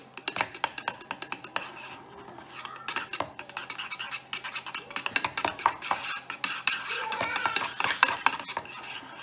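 Shaving cream paint colors being mixed to make secondary colors, a rapid series of close clicking, tapping and scraping strokes of a utensil against a container, uneven in rhythm and growing busier toward the end.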